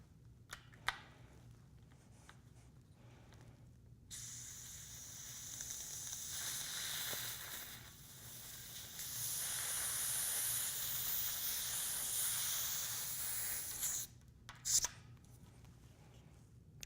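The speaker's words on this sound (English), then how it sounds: "Now we're ready to inflate the tire using either your frame pump or your CO2 inflator." A bicycle tire being inflated with a frame pump or CO2 inflator, heard as a sustained airy hiss that starts after a few seconds of quiet, runs for about ten seconds, then cuts off before a few small clicks.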